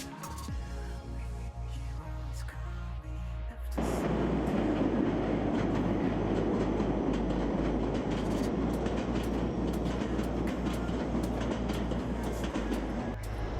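Ottawa O-Train light rail train starting up and running, a loud steady rumble with rhythmic wheel clicks over the tracks after a quieter hum, no talk.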